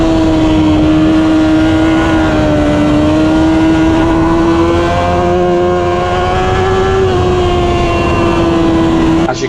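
Superbike racing onboard on a wet track at Croft during a Pirelli Super Series 1000 race, a loud sustained engine whine holding a steady high-revving pitch with slight rises and dips, blended with constant wind rush and spray noise.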